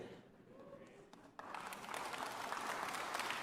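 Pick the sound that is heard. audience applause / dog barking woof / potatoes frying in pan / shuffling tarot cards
audience applause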